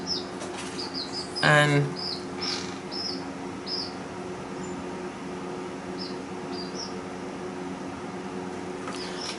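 A pet bird rustles and scrabbles about in its nesting box indoors, with a short burst of shuffling and repeated high chirps scattered throughout, and a person speaks briefly.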